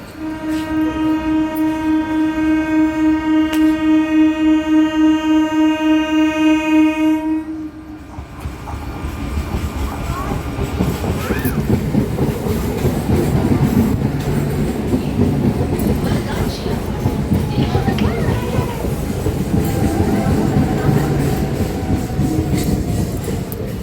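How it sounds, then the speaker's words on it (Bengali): At Bargachhia railway station, a loud, sustained train horn blares for several seconds, then gives way to the heavy rumble and clatter of a train rolling past nearby. "এটা হাওড়া যাবে, আর একটা আসবে, ওটা আমতা যাবে। আমি এখন আছি বরগাছিয়া স্টেশনে বসে আছি।"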